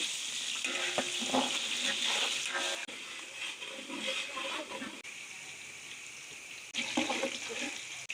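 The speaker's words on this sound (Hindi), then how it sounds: "अब हम इसमें ऐड कर देते हैं हरी मिर्च और प्याज। बिस्मिल्लाहिर्रहमानिर्रहीम। अच्छी तरह से ब्राउन करेंगे प्याज को।" Green chillies and onions sizzle and crackle in hot spiced oil while being stirred in a pan, with a busy, uneven frying hiss that pauses briefly between stirs.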